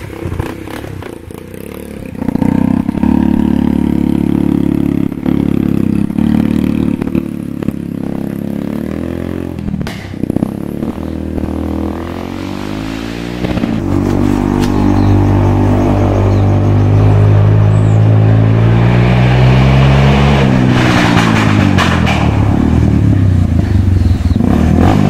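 A Yamaha XT motorcycle engine running close by, idling roughly and then revving up in loud rising bursts, with some clattering and scraping, no talk.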